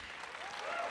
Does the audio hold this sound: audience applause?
yes